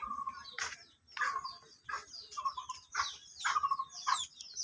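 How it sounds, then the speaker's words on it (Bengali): Chickens roaming a garden give repeated short clucks and calls, fairly faint with small bird chirps mixed in over quiet outdoor background. "চারিপাশটা দেখেন আমার মুরগিগুলো ঘুরে বেড়াচ্ছে বাগান থেকে"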